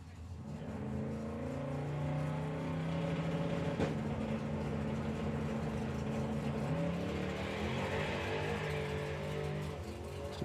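Drag racing car making a run at the 2024 Summer Nationals, its engine roaring loudly and steadily with rising harmonic tones while tyres squeal faintly beneath.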